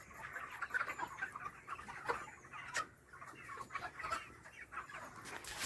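Chickens on a poultry farm cluck and chatter in a low, busy flock murmur, with occasional sharper calls rising above a steady background of rustling and movement.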